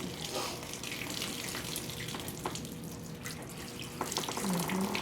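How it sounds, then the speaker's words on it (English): Continuous rushing, splashing water poured close by onto a cow's cut, steady and fairly loud, with faint voices murmuring underneath. "Pour it right here in this"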